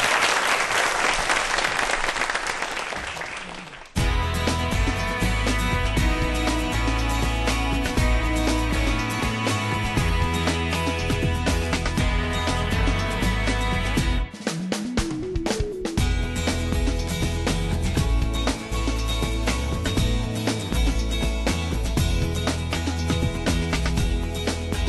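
A lecture audience applauds to welcome a rocket scientist's talk, a dense, loud, continuous clapping that swells right after a brief noisy opening and carries on steadily.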